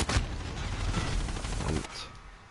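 Gunfire from the Call of Duty Modern Warfare video game: a dense, continuous burst of shots and crackling impacts that stops abruptly near the end, leaving a faint tail.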